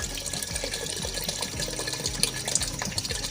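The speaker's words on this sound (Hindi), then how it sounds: "4 गिलास पानी शामिल कर रही हूँ।" Four glasses of water are poured onto rice in a pressure cooker, giving a steady close splashing and gurgling pour with no talking.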